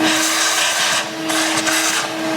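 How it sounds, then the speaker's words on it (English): A vacuum cleaner runs steadily and loudly, sucking debris out of the cabin air filter box of a Honda, its motor whine continuous with slight changes as the nozzle moves. "we're going to vacuum out all the nature that's in that box"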